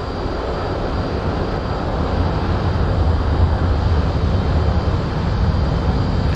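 An F-5E jet in a flight simulator game roars with a loud, steady broadband engine rumble that swells slightly and holds continuously, close and alone with no talk.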